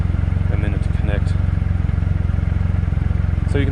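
Triumph Rocket III motorcycle engine idling nearby, a loud, steady rapid throb with even pulses throughout, with a voice talking over it.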